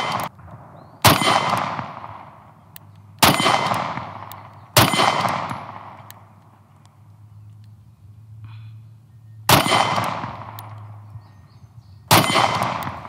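Smith and Wesson Compact 2.0 pistol firing its first rounds: five loud, sharp gunshots spaced a second or two apart, each ringing out with a decaying echo and no talking.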